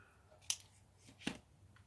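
Scissors snip satin ribbon for a handmade card: two crisp, quiet cuts about three-quarters of a second apart, close up in a still room.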